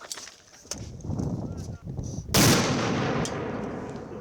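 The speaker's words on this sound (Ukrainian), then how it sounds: "вже не вперше стріляє з РПГ 7" An RPG-7 grenade launcher fires during outdoor weapons training, making one loud, sharp blast that follows a stretch of people talking and rolls into a lingering rumble.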